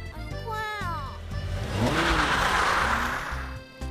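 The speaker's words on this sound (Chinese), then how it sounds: "快开车，快点踩油门。" A car engine revs and pulls away in a tense street scene, the engine rising and swelling under overlapping voices.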